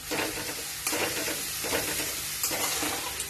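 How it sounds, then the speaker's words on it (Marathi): Chopped onion with coriander sautés in a pan, a steady loud sizzle broken by the rhythmic scrape of a stirring spoon every second or so, heard up close with no one talking. "कांदा छान असा आपल्याला ब्राऊन कलरचा होईपर्यंत परतवायचा आहे."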